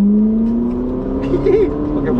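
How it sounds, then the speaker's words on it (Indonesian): A Ferrari accelerates to cut past a bus in road traffic, its engine note rising steadily with a brief revving flourish midway, close and fairly loud. "Pakai Ferrari motong bus."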